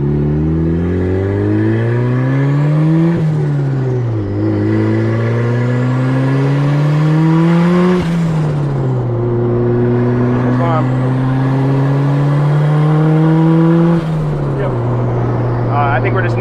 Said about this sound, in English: I'm gonna go like probably half throttle just to see what the AFRs are like